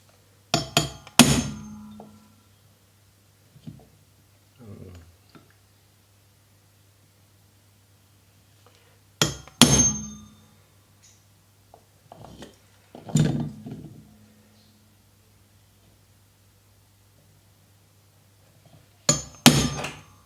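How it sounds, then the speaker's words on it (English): Sharp metallic hammer strikes on a center punch marking metal, in small clusters of two or three taps separated by quiet pauses, close and crisp over a faint hum. "Okay, so let's just center punch that."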